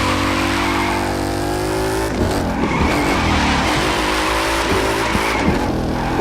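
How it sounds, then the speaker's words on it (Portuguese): In the video game The Crew 2, a Ford Mustang drifts with a loud, sustained engine drone that bounces off the rev limiter, broken by repeated short cuts and tire squeal, with no talking. "O de drift dá pra você ver mais ainda porque ele corta giro."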